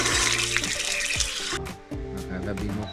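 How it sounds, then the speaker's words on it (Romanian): Water gushes from a hydrophore pump on a mountain hike: a strong, close rush of flowing water for the first half, then thinner splashing, with people talking throughout. "a zis că scot apă cu hidroforul de aici"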